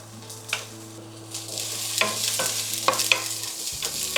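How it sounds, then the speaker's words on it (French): Carrot sautéing in a pan gives a close, soft sizzle, with stirring scrapes and clicks scattered through it and a low steady hum beneath. "pour la carotte, je vais sauter ça 3 minutes"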